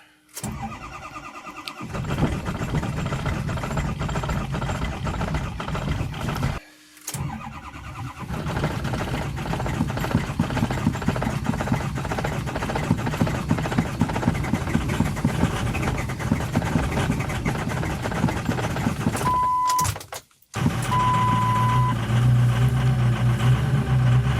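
A cold diesel engine idles while warming up after a glow-plug winter start, a steady close rumble with a knocking mid-range chatter that runs throughout, cut by two brief silent gaps.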